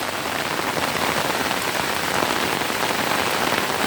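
Steady, dense rain pattering on a surface, a continuous even hiss of drops with no voices.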